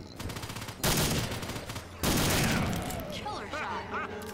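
Loud gunfire in Left 4 Dead 2 comes as two heavy sustained bursts, each starting abruptly, followed by fainter shots while voices chatter over the shooting.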